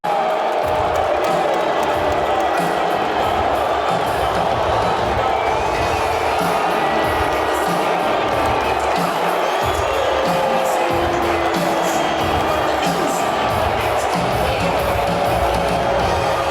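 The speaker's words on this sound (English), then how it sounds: "Here's him getting booed at UFC 244." A dense, loud crowd roars continuously at a UFC 244 event, booing Trump, a sustained wall of voices and jeers with no pause.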